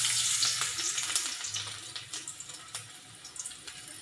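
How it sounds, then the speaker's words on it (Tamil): Chopped garlic fries in hot oil in a pan with a bright, crackling sizzle that fades and flickers, interrupted by a few sharp pops and light clinks. "இப்போ சட்டியில் எண்ணெய் காஞ்சோன்னா பூண்டை வெட்டி போட்டுக்கிறோம்."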